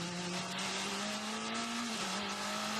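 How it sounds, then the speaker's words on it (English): On board a BMW race car at the Daytona 24 Hours, the engine drones steadily at high revs, pitch rising slowly before a brief dip and recovery, loud and continuous with tire and wind noise. "Just hearing the car sing a little bit"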